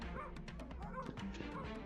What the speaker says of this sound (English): I also hear those wolves barking in the background music.